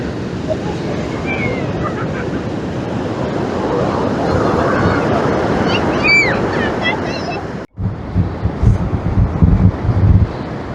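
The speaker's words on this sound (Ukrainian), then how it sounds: "Море штормить." Rough Baltic Sea surf crashes and roars steadily on a winter beach in Poland, buffeted by wind noise on the microphone, with a brief dropout and faint bird cries.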